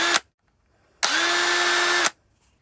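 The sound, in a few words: power drill with right angle attachment drilling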